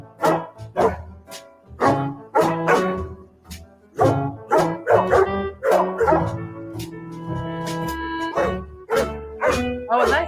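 Several dogs bark and yip in bursts throughout a replayed home video montage, the yaps close and loud with a brief whimper, and a voice talks over part of it.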